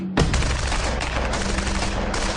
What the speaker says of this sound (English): caliber heavy machine gun unleashes its devastating power once more